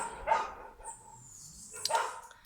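A dog barks at neighbors passing outside, giving two separate sharp bursts with a thin whimper between them, fairly faint and somewhat distant in a quiet room.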